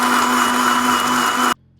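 A mixer grinder whirs loudly and steadily, blending a thick paste with a little added water for pasta, then cuts off abruptly after about a second and a half.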